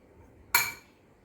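A single bright clink of a metal spoon against a bowl while sweet corn bhel is mixed with lemon juice, a short sharp ring that fades quickly in an otherwise quiet room.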